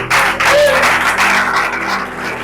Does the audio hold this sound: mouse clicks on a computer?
no